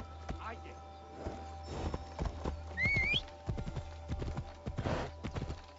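Horse hooves clip-clopping at a walk in a video game, a steady near rhythm of hoofbeats with a whinny partway through, heard under quiet background talk.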